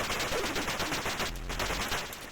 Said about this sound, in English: very classic looking flying saucers here that we're going to shoot